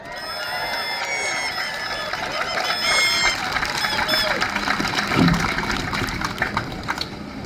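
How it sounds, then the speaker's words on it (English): Crowd applause and cheering at an outdoor rights and jobs rally and march, a dense steady roar of clapping and voices sustained at moderate loudness throughout, with no clear speech. "Let's give them a round of applause."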